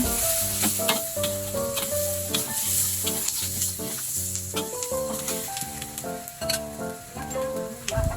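Monggo with pork knuckles is stirred in a pot, giving a sizzling, scraping texture under steady background music with clear melodic notes.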